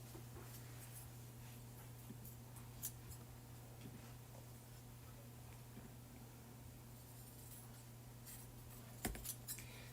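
Scissors snip through fabric for quilt mug pieces, with light, scattered cuts and rustles over a steady low hum, faint and close.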